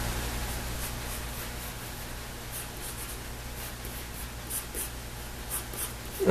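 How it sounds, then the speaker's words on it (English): Light pencil strokes sketch a Venom drawing on paper, a faint, steady scratchy rustle that continues throughout with small louder scrapes near the end. "I'm just using a light pencil to lightly sketch it in."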